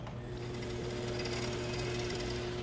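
A saw with coolant on the blade starting up and cutting metal on a marked, clamped workpiece, giving a loud, steady mechanical drone with a rattling buzz that runs unbroken throughout.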